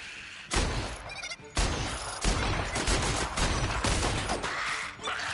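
Rapid video-game gunfire from The Outer Worlds during a fight with a giant creature, loud and dense bursts of shots crackling almost continuously for several seconds.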